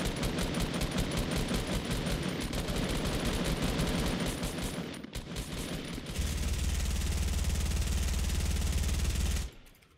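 Rapid automatic gunfire in a Fortnite Battle Royale match, loud and dense for several seconds, then a brief break followed by a steady sustained burst that cuts off abruptly near the end.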